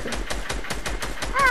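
Rapid, evenly spaced video game gunshots ring out in a steady automatic stream, fairly close and loud, with no voice over them.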